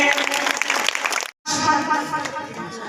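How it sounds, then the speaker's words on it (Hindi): A crowd at a village New Year and martyrs' day event in India bursts into strong applause, broken by a brief cutout, then resumes as a broad wash of clapping with a voice carrying over it. "जोरदार तालियां बजाएं बहन जी के लिए"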